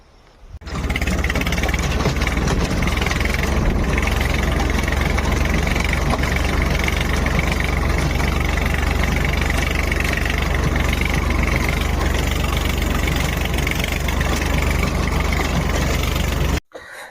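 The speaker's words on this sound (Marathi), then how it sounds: "ट्रॅक्टर चालिताना मी तुम्हाला दाखवतो कशा पद्धतीने होते" A farm tractor's engine runs steadily and loud at close range for about sixteen seconds, a constant droning rumble with no pauses, stopping abruptly at the end.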